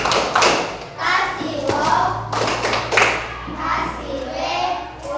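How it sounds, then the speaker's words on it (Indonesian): A classroom of students claps for a group, bursts of hand claps and thuds rising and falling over about five seconds, with a teacher's voice and children's chatter mixed in. "beri tepuk dulu untuk kelompok 1"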